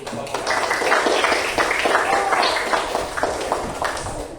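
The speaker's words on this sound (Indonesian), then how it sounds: "Tepuk tangan dulu." A classroom of students claps hands in a lively burst of overlapping claps, mixed with children's voices talking throughout.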